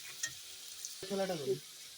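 Potatoes fry in hot oil seasoned with salt and turmeric, a soft, quiet sizzle with a brief stirring scrape and a short voice sound breaking in near the middle.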